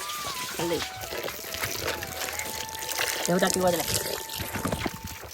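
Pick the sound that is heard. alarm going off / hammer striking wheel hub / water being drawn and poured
water being drawn and poured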